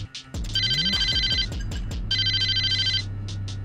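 Phone ringing in the video game Saints Row (2006), two loud electronic rings in a repeating pattern over low game music and effects.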